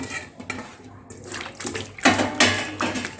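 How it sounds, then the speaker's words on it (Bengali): Cut potatoes being washed by hand in water in a basin, with irregular sloshing, splashing and knocks against the container up close, rising into heavier swishes toward the end. "ভালো করে ধুয়ে পরিষ্কার জলে আমি এটাকে ভিজিয়ে রাখবো"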